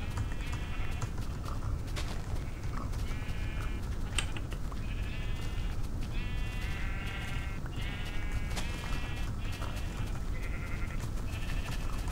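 Sheep bleat repeatedly in the video game Minecraft, a string of clear, close bleats spaced across the whole stretch over a steady low background hum.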